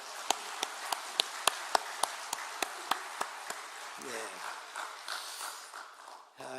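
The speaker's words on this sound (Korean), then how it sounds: "하나님께 이 시간 감사와 영광을 우리 함께 박수로 한번 올려드리기 원합니다" Congregation clapping in a church service, with about twelve sharp, evenly spaced claps over a wash of crowd noise that fade into a murmur of voices at the end.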